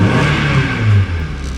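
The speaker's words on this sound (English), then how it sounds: "Let me see if I can do a couple revs for you guys without bothering my neighbors too much" A Mazda MX-5 Miata engine revs up sharply at close range in a couple of quick throttle blips, then settles back, loud and clear with no voices.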